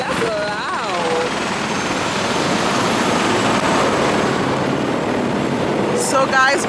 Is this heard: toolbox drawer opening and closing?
no